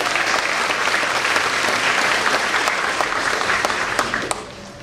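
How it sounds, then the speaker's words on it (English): An elementary school audience at a D.A.R.E. graduation ceremony breaks into steady, full applause that carries on for several seconds and then tapers off near the end. "so give them a round of applause."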